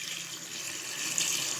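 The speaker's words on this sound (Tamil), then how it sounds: "இப்போ வந்து 1 கிளாஸ் வந்து நம்ம தண்ணி ஊற்றணும்." A glass of water is poured steadily into curry cooking on the stove, making an even, continuous stream that slightly swells near the end, with no talk.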